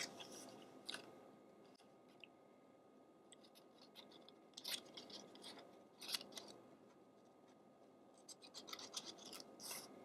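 Scissors snipping around a stamped paper card piece for a fall Halloween card, leaving a border, in quiet intermittent clusters of small crisp cuts with pauses between, close and soft, no talking.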